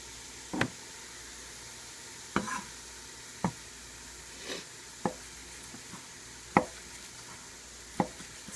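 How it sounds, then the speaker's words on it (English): Slow-cooked meat filling for chimichangas is chopped on a board, giving about eight separate knife knocks at an irregular, unhurried pace with soft squishy sounds between them. "Chop all this up."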